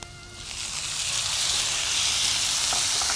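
Onion masala with tomatoes frying in a pan gives a loud, steady close sizzle that swells and then holds as a continuous hiss, with a few faint stirring clicks near the end.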